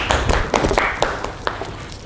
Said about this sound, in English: Clap your hands to her.